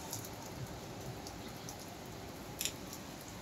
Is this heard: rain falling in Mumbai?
yes